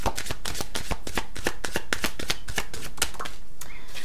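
A deck of playing cards is shuffled and cut by hand, giving a close, continuous run of crisp riffling flutters and soft slaps.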